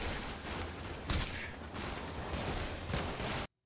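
Dense, continuous gunfire crackles for several seconds with a few louder bursts standing out, ending abruptly.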